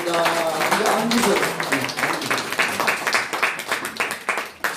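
A church congregation claps in welcome for newcomers during a Sunday service, the applause breaking into a dense stream of hand claps that thins and scatters unevenly toward the end, with a voice briefly heard at the start.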